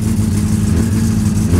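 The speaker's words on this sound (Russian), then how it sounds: "Просто сам чуть-чуть погазую." An old car's engine in the game My Summer Car is revved lightly to warm it up, a steady mid-low drone with slight rises in pitch and no voices over it.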